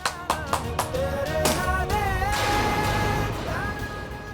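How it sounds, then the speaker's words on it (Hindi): A handful of sharp hand claps open a Hindi television drama scene, spaced quickly at the start before giving way to swelling dramatic music. "बजाइए बजाइए, ताली बजाइए।"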